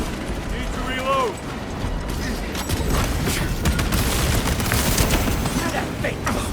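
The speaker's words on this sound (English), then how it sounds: "Need to reload." A weapon is reloaded in Warhammer 40K Space Marine 2, with metallic ratcheting clicks and clacks ringing out amid bursts of gunfire and heavy combat noise, brief voices sounding early on.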